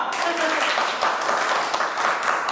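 An audience applauding during a Hindi stage play, a steady wash of many hands clapping at moderate distance with voices faintly underneath.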